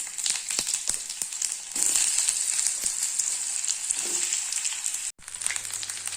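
Potatoes go into hot oil already crackling with mustard seeds, urad dal and curry leaves for a Tamil potato fry, producing a close, steady hiss with sharp pops and a brief burst as they land, no talking.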